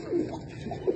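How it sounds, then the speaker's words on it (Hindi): Black-faced pigeons coo softly nearby, two low throaty coos about a second apart, with no talking. "ये काले मुंह वाले कबूतर हैं"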